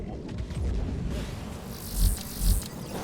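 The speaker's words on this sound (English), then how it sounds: "And bees! Not the bees." Bees buzzing in the video game Mass Effect 3 multiplayer, a dense insect drone with a couple of louder low thumps of gameplay action mixed in, no voices.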